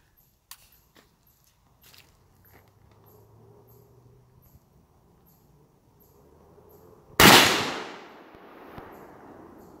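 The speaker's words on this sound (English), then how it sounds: "This is what we do on the 4th of July. We shoot guns." A single loud gunshot cracks out during a Fourth of July shooting session, a sharp blast with a fading tail after a few faint clicks and handling noises.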